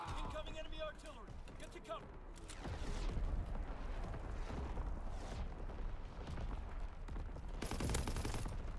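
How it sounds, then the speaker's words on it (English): Game artillery fire from Call of Duty, used while playing with an STG-44 assault rifle: dense, booming gunfire and blasts rumble continuously throughout, with a bright burst of impacts near the end, mixed with game sounds. "Incoming enemy artillery."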